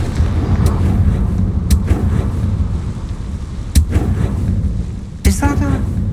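Confringo fire spell blasts cast in Hogwarts Legacy, with sharp, cracking impacts at irregular intervals and a final crackling burst, loud and close over a rumbling background.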